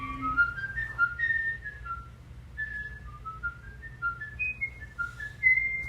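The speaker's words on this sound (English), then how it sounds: "You just hear him whistle." A man whistles a wandering tune as the killer in the 1931 film M, thin and fairly quiet, phrase after phrase with short breaths between, heard alone over a faint low background hum.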